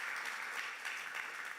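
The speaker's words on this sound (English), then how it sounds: "Shall we all give a round of applause?" Steady, fairly distant applause from an audience at a ceremony commissioning educational projects, a continuous wash of clapping that holds evenly throughout.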